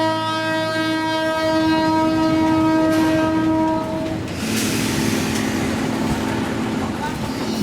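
Train pulling into a Thai market, a long loud horn blast followed by the rumble and rattle of the cars rolling past close by, with voices talking underneath.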